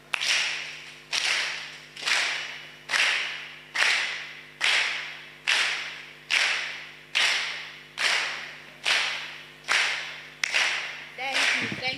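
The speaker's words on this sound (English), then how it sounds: "Ya Obama inaendanga hivi. One clap, mpaka akae chini." An audience at a health and sanitation symposium claps in unison, one sharp clap at a time, about once a second in a steady, slowly repeating rhythm across the whole stretch.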